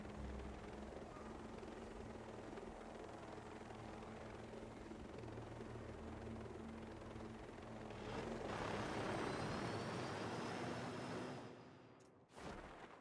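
A helicopter in the video game Ghost Recon Breakpoint drones steadily nearby with a rumbling rotor hum that swells louder and noisier toward the end before cutting off abruptly.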